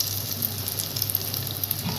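Beguni, battered eggplant fritters, frying in hot oil with a steady, close, bubbling sizzle and no talking.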